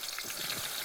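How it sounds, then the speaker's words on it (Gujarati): Onion and ginger tempering in hot oil for Gujarati chana dal, giving a steady close hiss of sizzling with faint crackles, alone for under a second. "વઘાર થઈ રહ્યો છે અસલ સરસ મજાનો"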